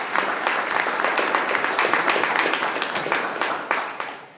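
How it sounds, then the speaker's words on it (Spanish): A church congregation breaks into sustained applause during a sermon, dense clapping holding steady at close range for several seconds before tapering off at the end. "Un aplauso para Cristo."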